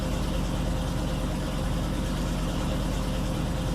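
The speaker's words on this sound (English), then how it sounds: "Cab over truck, new one, sounds nice." A cab-over truck engine in Farming Simulator 19 idles with a steady, low, throbbing rumble that holds even and unbroken throughout, with no talk over it.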